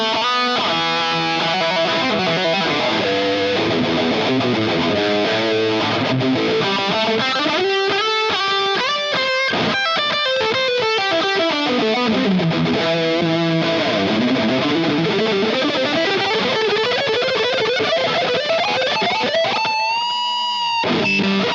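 Distorted electric guitar lead played through a Fractal FM9 with an 808 drive, delay and reverb, a continuous melodic line with bends and sustained notes, loud and close, ending on a ringing held chord with no talk.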